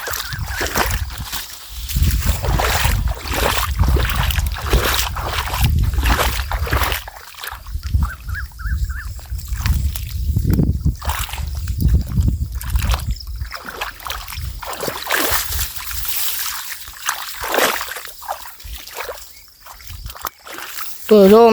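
Irrigation water rushes along a field channel toward trees on a hot summer farm, a steady broadband wash with splashing throughout, while people talk over it.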